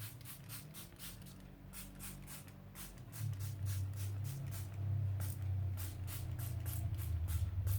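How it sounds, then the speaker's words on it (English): Handmade sprays spritzed onto 12x12 scrapbook paper, a quiet series of short hissing pump bursts in an irregular rhythm over a low background hum. "spraying it with my handmade sprays"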